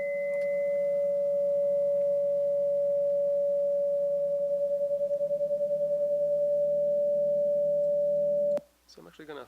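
Acoustic feedback rings through a glass jar as a single piercing steady tone, loud and unwavering over a low buzzing hum for about eight seconds, then cuts off abruptly into brief quieter noise.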